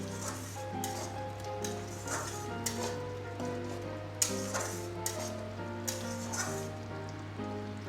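Egg curry sautéing in a pan with salt and turmeric: a soft, steady sizzle with occasional scrapes and clinks of a utensil against the pan, over a constant low hum.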